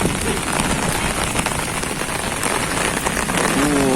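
Steady rain pattering densely on a surface, a constant close hiss with scattered drop hits and no pauses.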